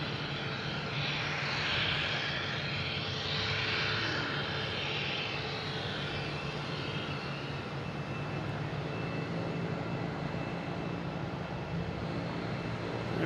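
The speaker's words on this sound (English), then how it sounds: "Next taking off is American Airlines." An American Airlines Airbus A319 takes off at Boston Logan, its engines a loud, steady broadband roar that holds for the whole stretch, close and unbroken with no voices.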